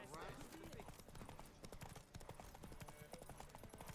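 Roach, a horse in The Witcher 3: Wild Hunt, gallops in a race with rapid, continuous hoofbeats, loud and close, over dense game sound and crowd noise.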